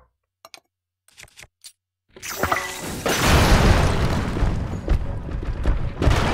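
A bomb explosion in Zelda: Tears of the Kingdom at a desert digging site, a sudden loud boom after a few faint ticks, followed by a long rumbling, crackling tail of debris.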